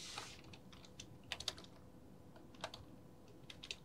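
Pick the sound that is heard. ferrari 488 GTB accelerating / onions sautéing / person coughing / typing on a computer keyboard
typing on a computer keyboard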